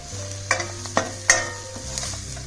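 Red chili powder and homemade chutney are stirred through hot tempering oil for a Maharashtrian kat misal, with a steady low sizzle and several sharp scraping clinks of a spoon against the pan.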